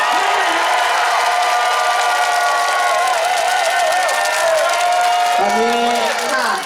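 A large crowd at a Pheu Thai party rally stage in Pathum Thani claps and cheers continuously, with dense applause and whoops. An announcer's voice carries over the noise through a loud PA.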